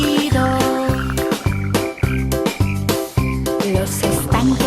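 Children's song with cartoon frog croaks set to a bouncy rhythmic beat, steady and loud, with repeated croaking accents over the music and no voices.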